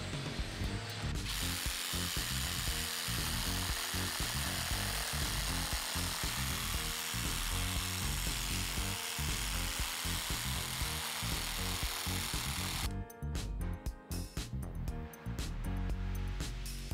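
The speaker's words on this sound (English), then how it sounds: "I'm gonna use a Sawzall, but this is a very thick rope" A Sawzall reciprocating saw chews through a very thick rope, a loud, continuous buzzing rasp that runs steadily for about twelve seconds, then stutters and stops.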